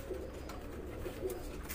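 Pigeons cooing faintly, soft low murmuring calls repeating a couple of times under a steady background hiss.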